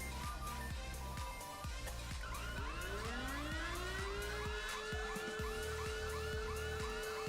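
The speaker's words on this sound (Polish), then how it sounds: "włącz syrenę" A fire engine siren in the Emergency 4 video game wails in rising and falling sweeps over a rhythmic pulsing game sound, loud and continuous with no talk.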